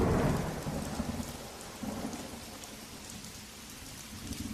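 Steady rain falls continuously with low rumbling thunder rolling underneath, a dense, even wash of sound with no voices.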